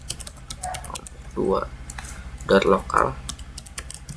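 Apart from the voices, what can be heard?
typing on a computer keyboard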